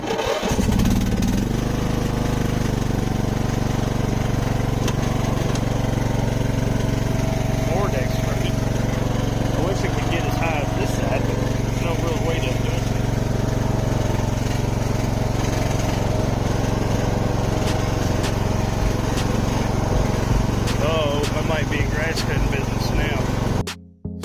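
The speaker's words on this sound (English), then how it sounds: "let's see if this junky mower will actually start" An old, junky lawn mower roars loudly and continuously at close range, its engine droning steadily before cutting off abruptly at the end.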